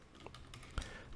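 Light typing on a computer keyboard, a handful of soft key clicks with one firmer tap, faint and close in a quiet room.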